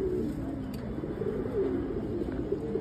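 Pigeons coo softly in low, rolling murmurs while being fed on a rainy day, a faint steady chorus without talk.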